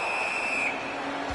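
A referee's whistle sounds in a PS4 KHL ice hockey video game, a sustained shrill tone of under a second over steady arena crowd noise.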